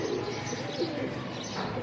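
Flying pigeons kept for high-flying endurance sport coo softly and continuously close by outdoors, with a steady background of other bird chirps and no talking.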